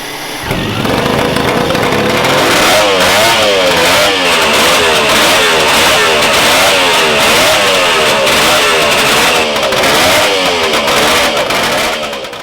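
A three-cylinder motorcycle engine runs steadily at an outdoor motorcycle show, loud and close, with a continuous revving drone that rises and falls in rhythmic pulses and a slightly muffled, regulated tone.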